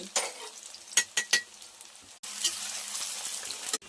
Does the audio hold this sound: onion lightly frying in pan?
yes